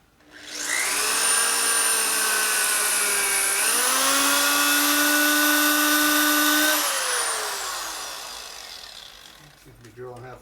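A drill bores out a broken sprocket pulley bolt on the rear wheel of a Harley-Davidson Twin Cam, a steady high-pitched whine that holds for several seconds, shifts pitch midway, then spins down to quiet.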